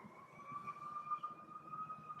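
An ambulance siren sounds behind a speaker in an everyday indoor setting, a steady wailing tone holding throughout, moderately loud and continuous with no talk over it.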